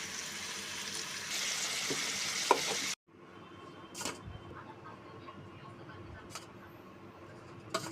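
Ghee added to a pan of cooked vegetarian pulao and stirred in, a steady close sizzle with scraping that cuts off abruptly partway, followed by quieter faint stirring and clinks.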